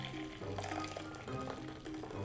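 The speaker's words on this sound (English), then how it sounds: "I'm just gonna run this through a sieve." Pastry cream mixture of egg yolks poured through a sieve into a bowl, a soft continuous liquid trickle and pour with faint tonal ringing, close and quiet.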